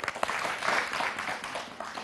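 Crowd applause at a children's game show, a dense steady clatter of many hands clapping together throughout, moderately loud with no speech over it.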